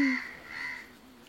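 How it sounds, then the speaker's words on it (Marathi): A crow gives a single clear caw close by, and a quiet room tone carries on after it. "कावळा"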